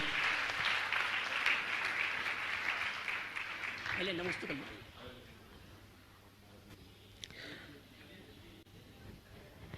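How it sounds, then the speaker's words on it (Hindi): An audience at a ceremony honouring journalists claps loudly at first. The applause thins and fades after a few seconds, and a voice briefly speaks over the tail of it. "मैं चाहूंगा इन सभी पत्रकारों का आप जोरदार ताली बजाकर इनका सम्मान करें"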